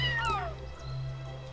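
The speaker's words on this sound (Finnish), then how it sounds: "Mä kuulen miukunnan todella läheltä." A cat meows in the video game Yonder, one drawn-out, falling meow that is close and clear over a steady low game hum, with no talking.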